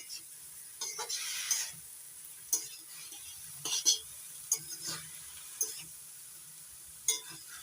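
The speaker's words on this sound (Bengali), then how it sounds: "এবার নাড়াচাড়া করে মিশিয়ে নিচ্ছি শাকের সঙ্গে" Fried katla fish eggs being stirred with Malabar spinach in a pan, soft frying sizzle underneath scattered scraping strokes of a spatula against the pan, close and fairly quiet.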